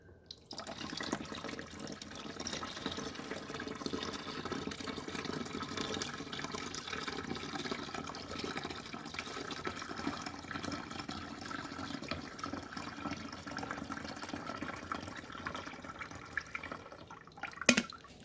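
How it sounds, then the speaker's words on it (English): Water pours steadily into the reservoir of a red Mr. Coffee 12-cup programmable coffee maker (BVMC-VMX36WM), a continuous close-up splashing and trickling fill lasting about eighteen seconds with no talk. "You've got this other opening, which is a little easier to pour the water into"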